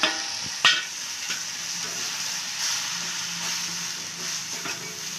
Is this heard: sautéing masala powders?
yes